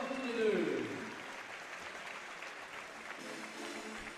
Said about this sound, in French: Et fin de ce combat, on les applaudit très fort tous les deux